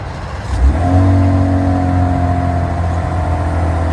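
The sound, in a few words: 2026 RAM Rebel inline-six engine idling after remote start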